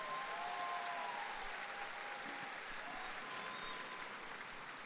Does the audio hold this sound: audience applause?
yes